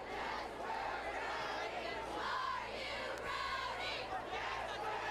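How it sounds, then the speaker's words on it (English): A crowd at a high school homecoming football game at the Ram Bowl cheers and shouts at a moderate distance, in rising and falling bursts over a low hum, with a few voices mixed in. "A nice crowd here unfolding at the Ram Bowl for homecoming night."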